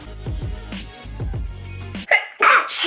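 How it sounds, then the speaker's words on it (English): A single small, cute sneeze bursts out near the end, preceded by a person talking. "That was a little cute sneeze."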